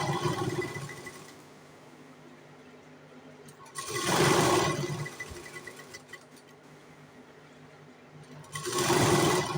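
An electric sewing machine stitching katori blouse fabric whirs in two loud bursts, each about a second long, with quieter mechanical hum between them, close up and without talk.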